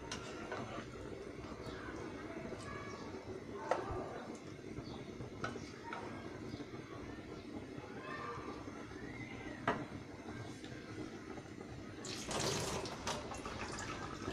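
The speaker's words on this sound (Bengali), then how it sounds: "একটু ঝোল দিচ্ছি সিদ্ধ হওয়ার জন্য।" Broth is poured into a pan of chicken cooking with panch phoron, a soft running liquid wash over low kitchen noise with a brighter splashing burst near the end.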